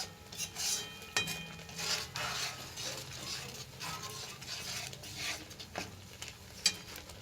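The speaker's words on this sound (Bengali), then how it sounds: "দেখুন মশলাটাকে আমরা ভালোভাবে কষিয়ে নেব।" Spice paste with turmeric and salt fries and gets stirred in a pan for a kohlrabi curry, soft sizzling under repeated scraping of a spoon against the pan, with occasional clinks, close and moderately quiet.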